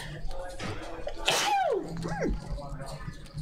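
A single sharp sneeze from a woman at a poker tournament final table. It is loud and close, with murmuring voices and room noise around it.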